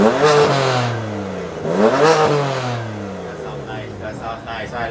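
A BMW E92 with an FI exhaust revs with its valves closed, two rising and falling blips of a deep, throaty engine heard up close, settling to idle.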